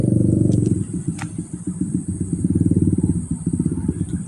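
A big motorcycle crosses a flooded road near a river, its engine chugging loudly with a rapid pulsing throb close by that eases briefly before returning.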